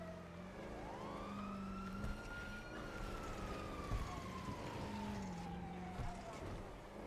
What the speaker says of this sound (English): Shut these sirens, please.